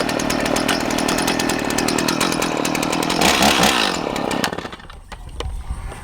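A chainsaw cutting firewood runs at a steady, loud, raspy drone, roars up briefly, then cuts out and dies near the end, leaving only faint sputters.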